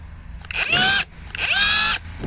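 An LVDIAN 388VF 630 Nm brushless cordless impact wrench runs in two loud half-second bursts, its motor whine sweeping up in pitch at each start, close by with short pauses between and no speech.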